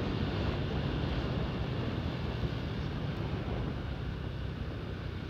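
An automatic motor scooter's engine is held at full throttle while riding, giving a loud, steady drone that stays constant throughout, blended with heavy wind rush.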